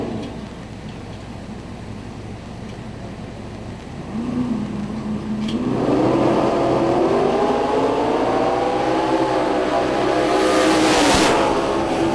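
A Corvette drag car at the 2012 Yellow Bullet Nationals launches and roars down the strip, its engine note rising and sweeping higher as it accelerates, loud and sustained over a steady crowd and track background.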